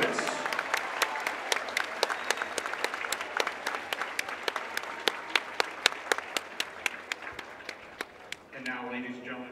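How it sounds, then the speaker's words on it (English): A crowd at a high school varsity basketball game applauds first responders and military personnel, a sustained wash of clapping with sharp individual claps standing out, fading near the end as a voice starts over a speaker system. "please give these individuals a round of applause to show our appreciation for their sacrifice and service"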